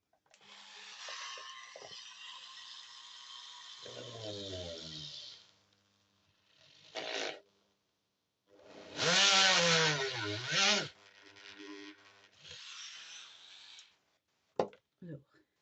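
A power drill bores a hole through a shadowbox album in two main bursts of whirring, separated by pauses, with short clicks near the end and quiet talk between.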